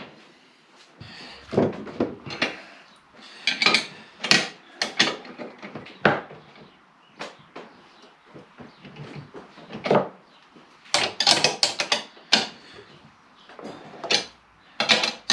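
Spanners rummaged for in a workshop: irregular bursts of clanking metal tools, knocks and scraping clatter, close and loud, with short pauses between flurries.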